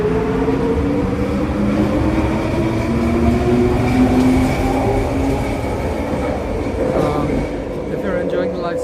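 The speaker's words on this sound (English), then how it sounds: "The next train to Production University is in 5 minutes" A train arriving at a station in British Columbia, Canada: a loud, continuous rolling rumble with droning tonal whine and faint clatter throughout, steady from start to finish.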